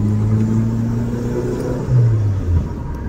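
A Proton Wira car with a 4G15T engine fitted with a Waja crank revs during a test drive: a steady low engine drone and cabin rumble, swelling briefly as the throttle is pressed, with no talking.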